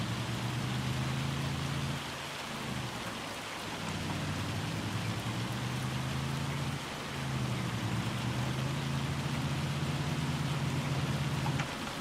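Steady heavy hail and rain from a storm in Farming Simulator 25 hiss continuously over a low, droning vehicle engine, loud and unbroken throughout.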